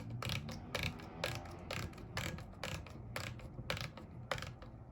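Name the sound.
depth adjustment knob turning on an electric hand planer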